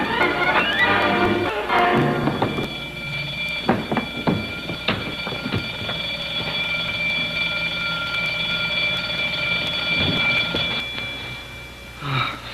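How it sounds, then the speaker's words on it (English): An alarm bell rings in a 1950 science-fiction adventure about a bank robbery, a loud, sustained metallic clanging that runs continuously with a few sharp knocks and bangs mixed in. "The alarm."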